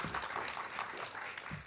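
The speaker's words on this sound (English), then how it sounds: "another round of applause for Stefan's project," A round of applause from the audience at a youth conference, dense clapping from many hands in a brief, even burst.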